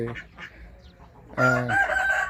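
Backyard chickens cluck softly a few times before a rooster lets out a loud, nearby crow that fills the last second, with ducks kept in the same pen.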